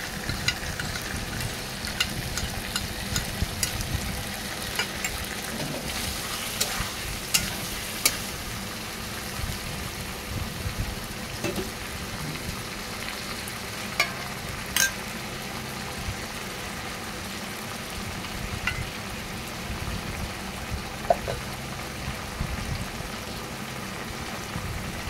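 Biryani masala with whipped yogurt fries in a pan while it is stirred for paneer biryani. The continuous moderate sizzle runs throughout, broken by scattered clinks and scrapes of the spoon.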